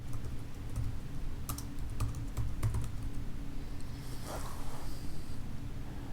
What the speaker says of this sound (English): You type in the problem you're searching for.